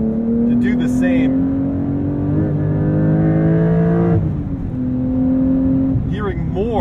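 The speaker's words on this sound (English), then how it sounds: "Hearing more from that flat six now, with the baffles and the exhaust opened up in Sport Plus." Porsche 911 Sport Classic flat-six revving hard with baffles and exhaust opened up in Sport Plus, a loud, close engine note rising through the gears with brief dips at shifts.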